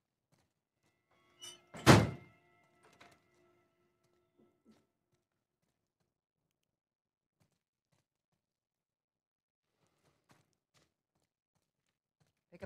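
Door shut in the video game The Last of Us Part 1, a single close, heavy thunk followed by a couple of faint knocks and near silence afterward.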